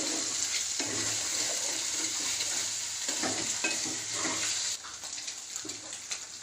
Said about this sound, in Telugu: చిన్న ముక్కలు అయ్యే విధంగా బాగా ఫ్రై చేసుకోండి